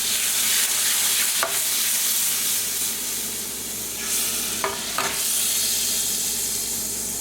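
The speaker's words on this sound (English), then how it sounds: "Deglaze the pan." About half a cup of coffee poured into a hot beef stew pan to deglaze it, sizzling and hissing loudly and steadily, with a few sharp scrapes partway through.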